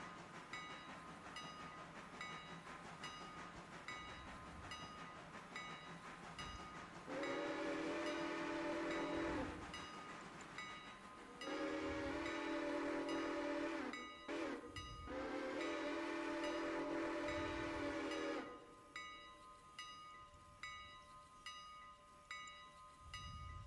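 A passenger train in the Railroader video game sounds its horn in several long, loud blasts over a steady engine rumble, with soft rhythmic wheel clacks filling the gaps between blasts.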